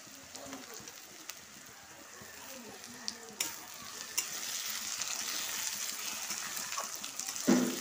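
Chopped tomato goes into onions already browning in a pan for an Indian crab curry, giving a steady close sizzle with light stirring scrapes that rises toward the end.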